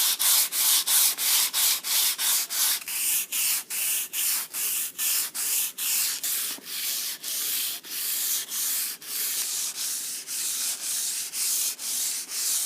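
A wooden axe handle is sanded by hand with fine grit up to 1200, steady rhythmic strokes of soft, close rasping with brief gaps between each pass, no talking.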